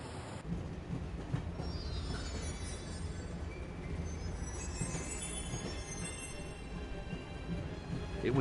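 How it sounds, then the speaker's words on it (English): A train rolls steadily along the tracks in the Broken Sword: Shadow of the Templars video game, with a continuous loud rumble and faint metallic squeals and clatter of the wheels throughout. "I'm going to climb on top of the train."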